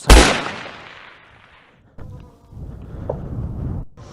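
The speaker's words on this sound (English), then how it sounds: "there's a guy shooting over here. I can hear the gunshots." A loud, sharp gunshot cracks at the start and rolls away in a long echo outdoors near a campsite, followed by fainter, more distant shots later on.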